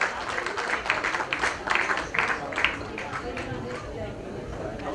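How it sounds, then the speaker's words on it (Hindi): Audience applause at an awards ceremony held at a Taj hotel, a dense crowd clapping steadily throughout, with bursts of louder claps mixed with background chatter and voices. "जोरदार तालियों की गड़गड़ाहट हो जाए दोस्तों।"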